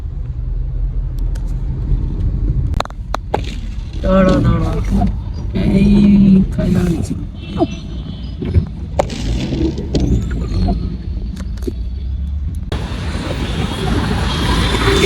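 Car moving through heavy traffic on a trip to Pune, with a loud continuous engine and road rumble, occasional horns and passing vehicles, and some voices mixed in.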